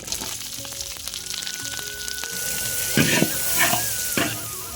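Chopped onion and chilli hitting hot oil in a pan, a loud steady sizzle that swells with bursts of spattering, with occasional clinks of utensils.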